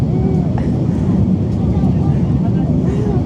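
An Aer Lingus passenger airplane on its takeoff roll, heard from inside the cabin as a loud, constant low engine roar and rumble, with a person talking over it.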